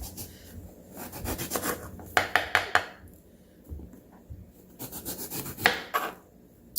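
A knife cuts the ends off a washed, skin-on eggplant on a board, giving close scraping rubs and a few sharp taps of the blade striking wood, in short bursts separated by quiet pauses.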